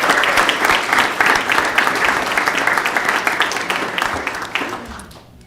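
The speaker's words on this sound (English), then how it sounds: "So let's give all of our families a round of applause for their support." Audience at a school governing board meeting applauding families, a dense, steady round of clapping that fills the room and fades out at the end.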